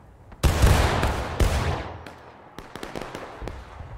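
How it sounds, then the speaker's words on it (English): Heavy gunfire in the Civil War game War of Rights, a loud close volley followed by scattered sharp musket shots near and far, the booming onset decaying into sporadic cracks. "I got bullets whizzing around my head"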